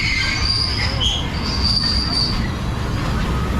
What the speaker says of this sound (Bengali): তো শুরুতেই ট্রেন রাইড